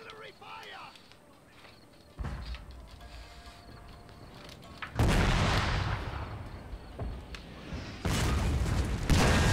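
Artillery guns fire in Total War: Shogun 2 – Fall of the Samurai, heavy booming blasts rolling in at intervals over a steady battle din, with some talk underneath.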